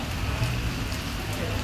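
Torrential rain pours down in Islamabad, a dense, loud, continuous hiss of drops hitting surfaces, with a low rumble underneath.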